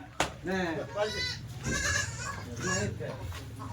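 Kathiawadi goats being unloaded from a vehicle, with loud, close, wavering bleats repeating several times, mixed with scuffling and people talking nearby.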